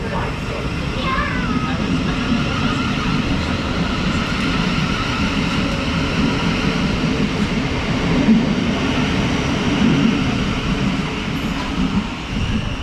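A Class 700 train, unit 700 110, departing a West Sussex station: a steady loud rolling rumble with traction whine and faint rising tones, sustained throughout.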